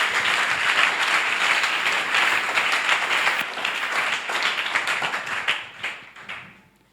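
Church congregation applauding in praise during a sermon, dense sustained clapping that holds steady, then thins and fades out over the last couple of seconds.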